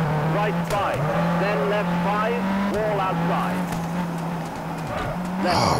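Rally car engine from the WRC3 racing game, a steady sustained drone with shifting revs and brief dips at gear changes, loud and continuous throughout, with a voice talking over it at times.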